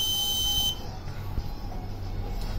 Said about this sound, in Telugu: సో అది బజ్ అయింది. ఇక్కడ బజర్ అయింది